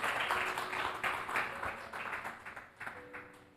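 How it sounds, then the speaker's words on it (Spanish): A church congregation claps in a loose, uneven burst that fades gradually, the applause carrying a roomy indoor echo. "¿Por qué no le dan un aplauso a eso?"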